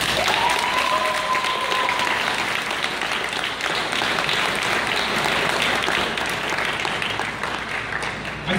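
Audience at a school graduation commencement bursting into sustained, dense applause, a loud steady wash of many hands clapping that holds evenly throughout, with a faint tone briefly audible near the start.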